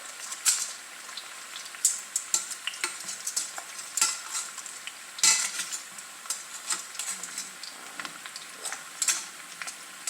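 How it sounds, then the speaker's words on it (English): Food fries in a pan with a soft, steady sizzle and crackle, and occasional light clicks and scrapes from stirring or turning pieces, heard close and fairly quiet. "after they cook just a little while on this side, we'll kind of get them over, push them over on their sides so that the underbellies can cook."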